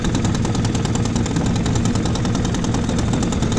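A 2 hp Spirit outboard motor runs steadily after a carburetor cleaning, a loud, continuous, rapid engine chatter with an even rhythm and no talking.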